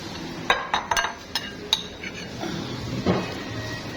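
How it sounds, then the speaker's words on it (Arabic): Metal spoon clinking against a dish while the remaining minced meat is spooned onto a diet moussaka layered over potatoes and sauce: a few light, close taps and scrapes in an irregular rhythm, quiet, with no talk. "وننزل بقى ببقيه اللحمه المفرومه اللي احنا شايلينها"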